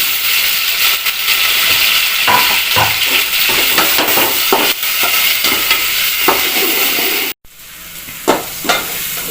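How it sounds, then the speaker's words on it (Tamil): Tomatoes sauté in oil for an anchovy fish curry, giving a steady close sizzle and frying hiss with stirring clinks and scrapes throughout and a brief gap near the end. "போதும் நல்லா எண்ணெய் பிரிஞ்சு வதங்கிட்டு"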